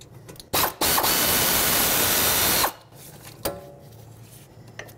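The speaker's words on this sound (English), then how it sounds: "I'm going to remove this 10 millimeter bolt that holds the brake line and the ABS sensor in place." A power ratchet works on a 10 mm bolt holding the brake line on a 2005-2010 Chrysler 300, a loud close burst of about two seconds followed by a few clanks and metallic handling sounds.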